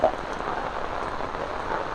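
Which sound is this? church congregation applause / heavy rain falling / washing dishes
heavy rain falling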